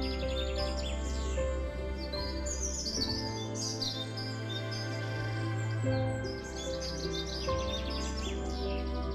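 Birds chirp and sing in a forest, bright overlapping tweets and trills over a steady bed of sustained music, used as a storybook sound effect.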